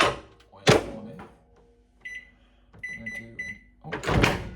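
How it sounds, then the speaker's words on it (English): A kitchen microwave oven is set for a minute and a half of heating: key-press beeps and a door thunk sound, then a steady electronic hum runs with tonal beeps, bracketed by louder handling clatter near the start and end. "I'm gonna do 1 minute 30 in the microwave."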